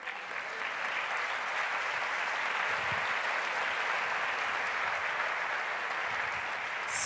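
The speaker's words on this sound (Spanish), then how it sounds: "Dele un aplauso al Señor." A church congregation applauds steadily and loudly for several seconds, a dense, even wash of clapping from a crowd indoors with no pauses.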